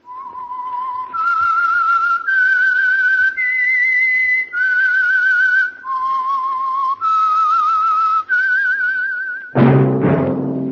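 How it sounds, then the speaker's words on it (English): A clear whistled melody of sustained, wavering notes stepping up and down, solo and close, ending with a sudden burst of orchestral sound. "That whistle is your signal"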